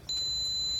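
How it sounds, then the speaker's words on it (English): Steady electronic beep in a room, a single high-pitched tone held for almost a second, clear and fairly loud against a quiet background with no talking. "Because it keeps beeping so weird."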